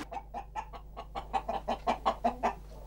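Close, rapid clucking from gallo pardo roosters, a breed kept for fishing-fly feathers, sounds as a steady string of short calls that grows louder toward the end.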